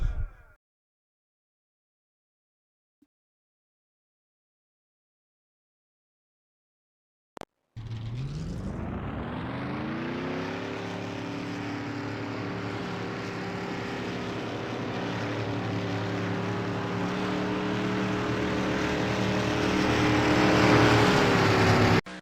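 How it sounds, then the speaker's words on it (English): Race truck engines at Atlanta Motor Speedway before the Peach State 250, heard after several seconds of near silence as a sudden start and a massed low roar that swells steadily and keeps building to the end. "Drivers, start your"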